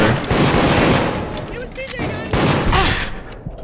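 Gunfire in the multiplayer game Deceit, loud rapid bursts and fusillade-like shots up close, mixed with game effects and a voice talking over it.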